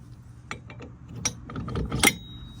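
A B&W 5-inch drop Tow & Stow hitch is dropped, flipped around and pulled back up, giving a few short metallic clanks and ratcheting knocks spread over a couple of seconds, close by with no talking.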